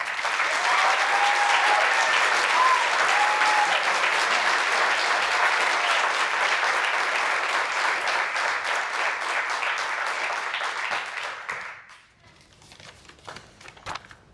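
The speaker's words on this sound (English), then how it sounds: "how about one more round of applause" A large audience at a school graduation applauds steadily for about twelve seconds, a dense wash of clapping that then fades into a few scattered claps.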